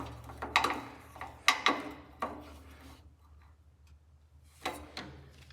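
Screwdriver handle with a long extension tightening a 1/4 inch fitting on a Kohler M18 engine carburetor, giving a few near ratcheting clicks and scrapes in quick bursts, then a pause and one last short burst.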